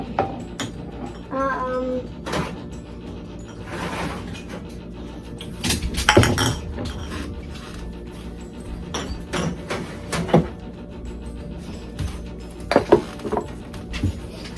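Sliced beets and onions are dropped into a glass canning jar while making pickled beets, giving a run of close, irregular clinks, knocks and glassy taps with quiet pauses between.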